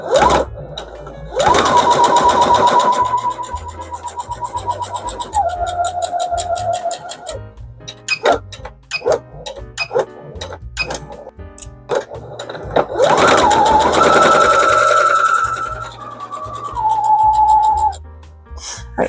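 A sewing machine stitches fabric squares together for a cabin bag in two long whirring runs, with tones shifting as speed changes, separated by clicks and handling noises.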